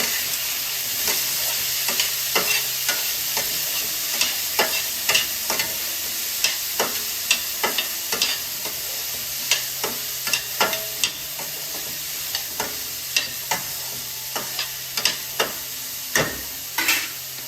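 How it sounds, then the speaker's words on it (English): Mixed vegetables sautéing in a pan for donne biryani, a steady close sizzle broken by repeated sharp scrapes and clicks of stirring, with no talking. "I'm going to add all the vegetables that we had. And then let's start sauteing this a little."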